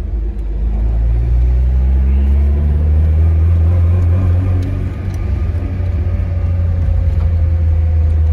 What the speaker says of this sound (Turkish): Ara gaz çekiyor.